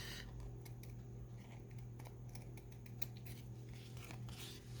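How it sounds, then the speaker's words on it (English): Scissors trim and round off the corner of a handmade paper card: a run of short, crisp snipping cuts close up over a steady low background hum, with no talking. "now I'm just going to trim, kind of round that off"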